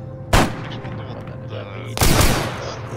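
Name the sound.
gunfire in ArmA 3 video game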